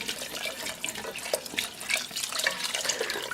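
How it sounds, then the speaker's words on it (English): About six cups of water are poured into a pot of chicken noodle soup stock, a steady close splashing, gurgling stream with small irregular splashes and no talk. "We're going to go ahead and add a little bit more water to the stock."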